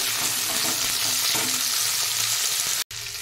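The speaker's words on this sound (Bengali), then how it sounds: "টমেটো দেওয়ার পর এভাবে করে নাড়াচাড়া করে নিতে হবে" Chopped tomato frying with browned onion in a hot pan, a dense continuous sizzle with scraping stirring strokes, close and loud, broken by one brief gap near the end.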